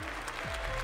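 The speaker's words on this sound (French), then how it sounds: "Allez, on les applaudit." An audience at a Tarentaise competition claps briefly, a soft, distant patter of hands beneath faint background voices.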